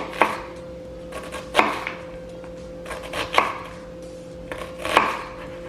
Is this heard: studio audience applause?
no